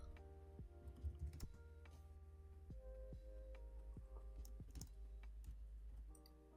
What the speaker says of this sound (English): Feel like she's typing away.